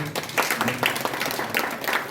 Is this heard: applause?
yes